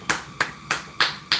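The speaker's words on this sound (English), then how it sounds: "Clap for them." Five sharp hand claps ring out at an even, steady pace, each crisp and close, with quiet gaps between them.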